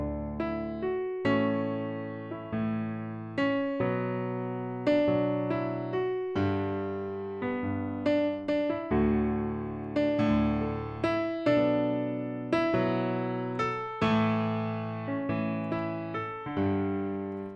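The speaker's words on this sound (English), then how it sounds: "Nord Stage, kwa hiyo nikapiga piano hii ni main piano." Main piano part from a Nord Stage 2 in a worship beat, alone with no talk: steady chords and a melodic line struck in a regular rhythm, each note decaying before the next, at a moderate, even level throughout.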